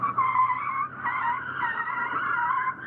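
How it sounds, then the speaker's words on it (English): Tires of a Ford ST skid car squeal steadily during oversteer practice on a driving track, a loud sustained screech that wavers in pitch for a few seconds, with no talking. "This is the skid car."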